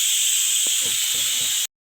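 Steam hisses loudly and steadily from a pressure cooker with its whistle removed while mutton curry cooks, cutting off abruptly near the end; a voice murmurs faintly underneath.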